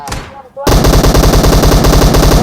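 Automatic gunfire in the PUBG video game, a brief lull followed by a loud, rapid burst of machine-gun shots firing continuously, with a voice briefly heard before the burst.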